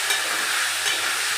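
Potatoes and carrots frying in a pan, a brief, loud, dense sizzle heard up close and unbroken throughout.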